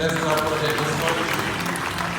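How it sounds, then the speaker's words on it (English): Steady applause from a crowd at a graduation ceremony fills the whole stretch, dense and continuous, with a voice faintly audible underneath. "Please let's clap for them."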